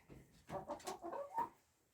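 Laying hens, among them a tiny Sebright, cluck softly nearby in a short run of low, uneven calls.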